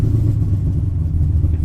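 A GM LS7 V8 swapped into a Datsun Z idles with a steady, loud, deep rumble, close up and alone.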